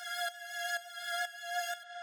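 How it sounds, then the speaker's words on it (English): Synth tone washed in heavy reverb for a spacey, airy texture, repeating in four even pulsing swells with a bright sustained tail and no talking. "you can hear it has like that cool kind of like reverby, spacey texture"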